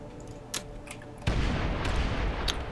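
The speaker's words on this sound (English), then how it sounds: "Oh, something exploded here inside." Booms erupt inside a Space Engineers game session: a few sharp distant bangs, then a sudden loud, broad explosion that rumbles on to the end of the clip with no talk over it.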